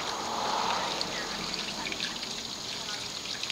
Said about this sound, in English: now I'm going to go ahead and just pour some water and wash this away